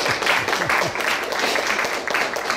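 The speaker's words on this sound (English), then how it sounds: "So we, you can join me with a great applause to join Dr. Tom Sleight." An audience at a university science speaker series applauds to welcome a speaker, a steady wash of clapping from a modest crowd, moderately loud, with a little voice mixed in.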